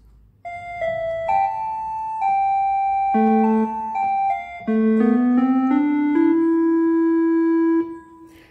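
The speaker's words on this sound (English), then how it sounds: "now some synthesized sounds." Synthesized voices on a Yamaha PSS-E30 digital keyboard play a short melody of clear, sustained electronic notes, stepping up and down in pitch and sometimes layered into chords, loud and close with no talking.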